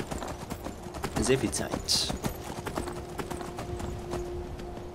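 Horse hooves clip-clop in a steady rhythm in the video game Skyrim, up close and persistent throughout, with someone talking over them.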